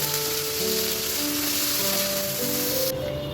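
A paste of ginger, garlic, onion and tomato frying in a pan, a steady close sizzle and hiss that holds level throughout, with a faint tonal hum behind it.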